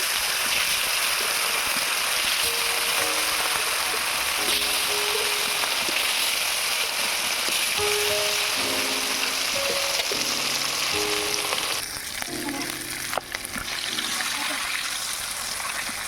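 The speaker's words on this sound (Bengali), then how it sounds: "তেল গরম হয়ে গিয়েছে, এবারে মাছগুলো ভেজে নেব।" Katla fish pieces fry in hot mustard oil in a kadai, a loud continuous sizzle and crackle filling the whole stretch, with faint tonal background sounds running underneath.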